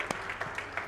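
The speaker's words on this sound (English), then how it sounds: "everybody should give themselves a round of applause." A conference audience at an African markets event giving itself a round of applause, a short, scattered burst of claps with a few distinct hand strikes standing out from the thinner background.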